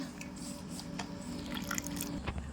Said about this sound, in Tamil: இப்போ கொஞ்சம் கொஞ்சமாக பால் ஊற்றி நம்ம கலக்கிக்கலாம்